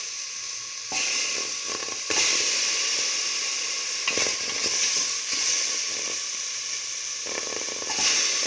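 Buttermilk poured into a hot frying mixture gives a bright, steady hiss and sizzle that swells and eases in several waves, close and fairly loud, with no voices.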